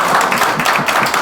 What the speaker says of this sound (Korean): 박수 한번 들어주세요.